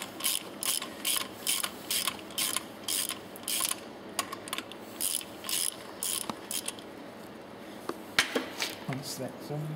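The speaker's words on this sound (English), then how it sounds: "So, just a different spanner head in. I'm just going to loosen" A ratchet spanner loosens a fitting on the delivery side of a pump valve, giving rapid bursts of close, crisp clicking strokes that repeat steadily with short pauses between them.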